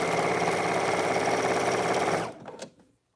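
A sewing machine runs steadily, stitching the hem of a shift dress, then slows and stops after about two seconds, with a couple of faint clicks after it.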